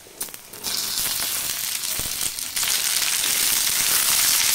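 Chopped ivy gourd pieces tossed onto lightly browned onions in a hot pan, setting off a loud, dense sizzle and crackle that swells once the vegetables land and keeps hissing steadily, with no voices.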